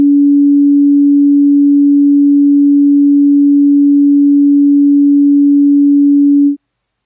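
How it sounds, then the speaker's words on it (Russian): A pure 285 Hz test tone held steady and loud for over six seconds, then cut off abruptly into silence. "Чтобы понимали, что такое 285 Гц"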